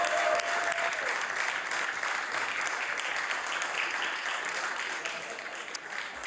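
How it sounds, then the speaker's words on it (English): A legislative chamber audience applauds Lady Kay in the House of Assembly, a steady dense patter of many hands clapping throughout, fairly even in loudness, with a brief faint whoop early on. "let the House give her a warm, warm round of applause"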